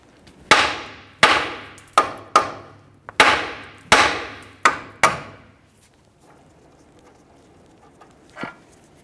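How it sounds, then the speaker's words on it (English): Eight sharp metallic hammer blows ring out on the steering knuckle of a 2012-2018 Nissan Altima while separating the outer tie rod end, loud and close, in an uneven series; a faint clank follows after a pause. "Now we'll use a hammer, cause some vibration, and that should break this free"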